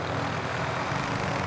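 A helicopter passes overhead in a video game's final-circle battle, heard as a steady, loud rotor and engine drone that fills the whole moment with no voices.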